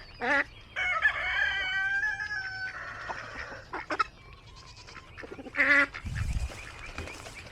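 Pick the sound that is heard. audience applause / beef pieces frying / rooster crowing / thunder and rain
rooster crowing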